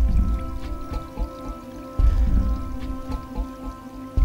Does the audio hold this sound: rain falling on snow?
yes